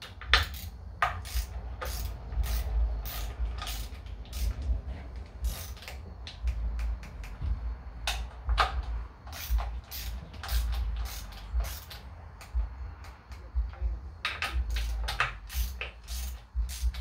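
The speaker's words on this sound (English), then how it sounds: "I'll finish torquing this and get back with you." A ratcheting torque wrench tightens bolts on a supercharged 392 Hemi engine, with rapid clicking bursts repeating throughout alongside metallic creaks and clanks close by.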